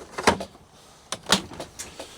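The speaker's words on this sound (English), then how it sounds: "This drawer, it closes," A drawer in a work van's storage shelving slides shut with effort, giving two separate scraping, thudding pushes about a second apart, fairly close and with nothing else around them.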